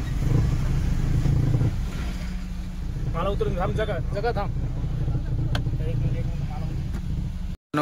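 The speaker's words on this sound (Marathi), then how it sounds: "गाडी आली आहे." A goods vehicle pulls in at a crowded goat-selling spot, its engine rumbling loudly and steadily throughout while voices chatter briefly in the middle.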